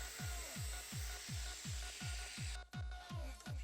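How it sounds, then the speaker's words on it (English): Angle grinder cutting off a broken exhaust stud near the base of an exhaust pipe, a loud steady high whine with rhythmic low pulses about every half second, the pitch shifting as the cut finishes near the end. "First of all, cut the stud off. Using the angle grinder, try not to touch the base of the pipe."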